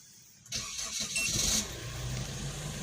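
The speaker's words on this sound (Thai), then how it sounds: "สตาร์ติดเรียบร้อยนะครับ" Chevrolet Captiva engine cranking briefly and starting after an immobilizer test, a whining start that settles into a steady, moderately close idle.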